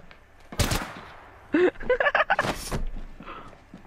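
Enemy gunfire in the Apex Legends shooter game, a few loud, sharp rapid bursts of shots close by, separated by short pauses over a few seconds.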